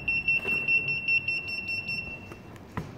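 Door lock system with fingerprint and SMS control sounding its alarm, a rapid electronic beeping tone repeating steadily for about two seconds before it stops, followed by faint handling clicks.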